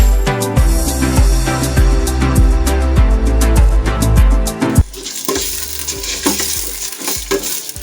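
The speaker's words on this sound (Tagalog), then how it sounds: "Haluin natin hanggang sa mag-incorporate yung ating mga pampalasa doon sa ating bigas at malagkit" Washed rice and glutinous rice are stirred with sautéed spices in a pan, scraping and sizzling steadily. A rhythmic music beat plays loudly over the first half and fades back as the frying and stirring continue.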